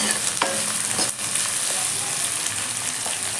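Chopped onions sautéing in a pan, a dense, steady sizzle with occasional scraping stirs and a soft utensil knock, close and fairly loud, no talking.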